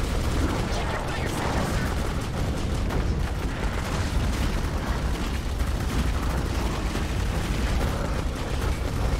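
Dense, continuous gunfire and explosive bursts from the first-person shooter Clive Barker's Jericho, loud and sustained throughout, with a voice talking over the noisy combat.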